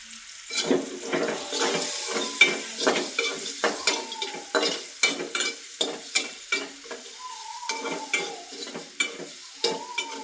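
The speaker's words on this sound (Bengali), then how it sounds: "দেখো পেঁয়াজগুলো ভাজা হোক" Onions, green chilies and chopped garlic sizzle in hot oil in a pan while a utensil scrapes and stirs in a steady, repeated rhythm, close and clear, with no talking.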